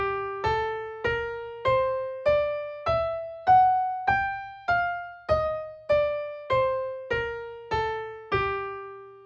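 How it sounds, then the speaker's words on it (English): A melodic minor scale on a clear, plucked or struck pitched instrument rises note by note and then falls back down, about fourteen separate notes in a steady, even rhythm, each one decaying quickly, with no talking. "So a full melodic minor scale is constructed like that,"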